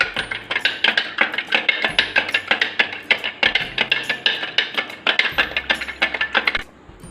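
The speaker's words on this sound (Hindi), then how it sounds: "चीनी मैंने डाल दी है और अब मैं इसको अच्छे से मिक्स कर रही हूँ।" A spoon stirs sugar into milk in a glass for doodh soda, giving a fast, steady run of bright, close metallic clinks against the glass that carries on for several seconds before stopping, with no talk.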